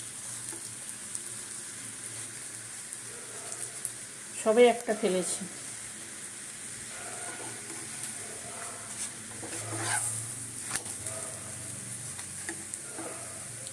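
Layered lachha paratha frying in a pan over low gas with oil, a low continuous sizzle with a brief burst of handling noise partway through, while a person talks over it.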